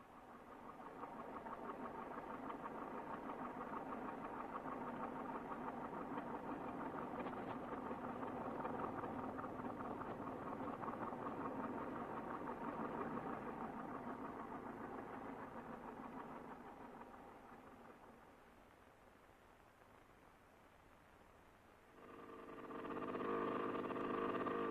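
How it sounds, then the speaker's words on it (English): Tractor engine running at the bottom of a slanting shaft, driving water pumps drawing from underground springs; a steady, continuous mechanical drone that eases off briefly near the end before swelling again, with no talk. "A tractor is driven down the shaft to provide power for pumping water from six underground springs"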